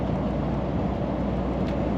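A heavy 44-ton lorry pulls after an upshift, giving a low, steady, labouring engine rumble with broadband road noise, constant and fairly quiet, with no talk.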